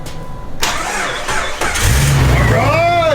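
A 4.0L engine, powered by a battery jumper pack, cranks briefly and fires, then settles into a loud, close idle with a rising whine; a blower runs and people talk nearby.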